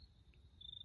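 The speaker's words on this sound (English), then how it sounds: "I'm surrounded by crickets right now." Faint, steady high-pitched cricket chirping over a low rumble of background noise, with no voices.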